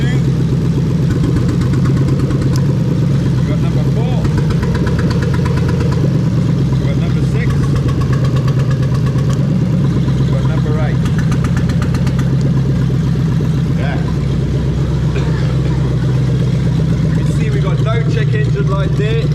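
A steady, low idle from a Lexus 1UZ-FE VVT-i V8 engine runs throughout at close range, a constant rumble with faint mechanical ticking and a voice talking over it.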